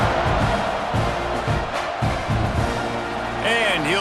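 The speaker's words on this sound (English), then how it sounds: "You think this crowd's going to get loud when their defense comes on the field?" A stadium crowd at a college football game in an EA Sports College Football 26 game roars in a broad, continuous wash of noise. Bursts of louder swell rise over it, and near the end a whistle or horn-like tone slides in.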